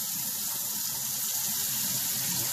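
Cloudy rice rinse water pours out of a pot in a steady splashing stream, close and fairly loud, with no talking.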